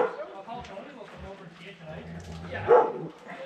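A dog barks a few times and whimpers nearby, with one louder bark near the end, while someone talks over it during mink trapping work.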